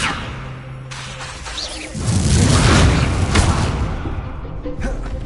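A Confringo spell bursts in a Hogwarts Legacy duel, a loud booming explosion with whooshing spell casts, surrounded by other magical impacts and a voice calling out.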